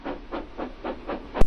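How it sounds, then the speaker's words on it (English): A steam locomotive in an animated railway story lets off steam in a series of soft, rhythmic hissing puffs, about five in a row, fairly close, ending with a sharper burst. "He just let off steam feebly."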